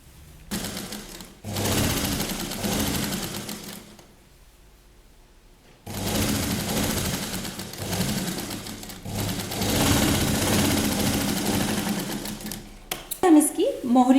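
Sewing machine runs in several long bursts, stitching pleated pieces of a child's Patiala salwar together, close and steady with pauses between runs while a voice talks.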